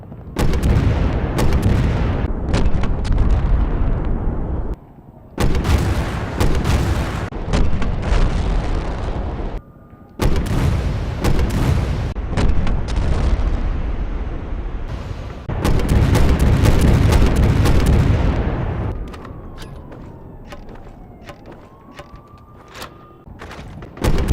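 Gunfire from Resident Evil 6 weapons in a video game: loud, repeated bursts of shots with short gaps between rounds, some booming and echoing, ending in a quieter stretch with faint mechanical clicks.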